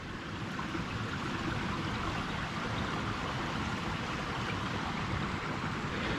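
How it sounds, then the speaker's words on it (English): Running water from a small, partly frozen river in a snowy outdoor setting, a steady, close, broadband rush that stays even and continuous throughout with no talking. "There's water running. You can hear the water."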